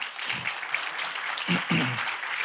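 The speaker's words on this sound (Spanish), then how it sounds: "¿Cuántos le pueden dar un aplauso al Señor?" A church congregation applauds, a steady broadband patter of clapping filling the space, with brief low voice-like bursts breaking through near the start and middle.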